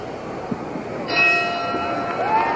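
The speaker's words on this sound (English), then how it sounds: "The bell for round one." A boxing ring bell signals round one at a Muhammad Ali vs Buster Mathis fight, a single bright metallic strike with a ringing tone that lingers over a crowd murmur.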